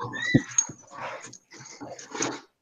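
A dog whimpering and yipping with a few short barks, close by, in a quick uneven burst of high whines and sharp yelps.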